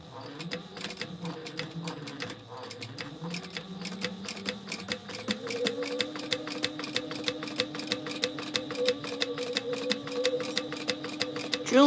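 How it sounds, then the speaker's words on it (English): A sewing machine top stitches 1/8 inch from the edge of a binding on a fabric gingerbread house gift holder, a rapid even clatter of needle strokes that quickens and grows louder, with a voice talking faintly at the start. "now out here I'm just going to do a top stitch 1/8 of an inch from the edge of my binding"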